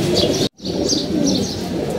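Racing pigeons coo and chirp in a loft, a close, continuous chorus of soft repeated calls broken by a brief silent gap.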